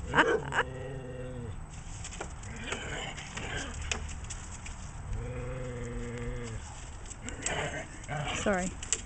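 A pack of dogs in a yard, with an adult male growling and grumbling at a puppy; low harmonic growls come in two long bouts amid scattered yips and other animal noises, moderately close.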